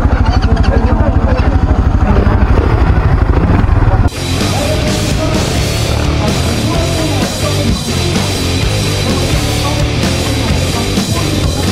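A CF Moto dual 230 motorcycle engine, loud and close, with a steady low idle that jumps abruptly into a sustained high rev and holds there, with faint talk underneath.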